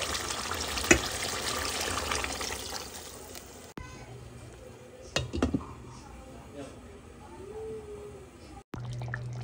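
Beef curry with potatoes simmers after broth is added, giving a soft bubbling, sizzling hiss from the pot with a few clinks and splashes, while someone speaks over it.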